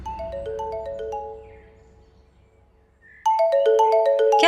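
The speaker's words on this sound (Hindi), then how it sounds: "कौन बार बार फोन कर रहा है?" A mobile phone ringtone plays a bright melodic tune that fades away, then starts over loudly after a short pause, with no voices.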